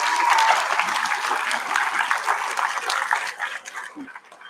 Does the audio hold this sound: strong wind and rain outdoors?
no